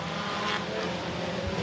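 Sport compact race cars on the Interstate Speedway oval, engines droning together in a steady, moderately distant roar that holds without a break for the whole moment.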